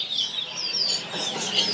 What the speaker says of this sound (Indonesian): Jadi ini juga ada yang namanya burung kacar betina ya.